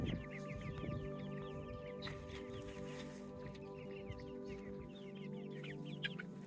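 Backyard chickens in a new coop clucking and murmuring continuously at low volume, several birds overlapping in soft, irregular calls with faint background noise and no talk.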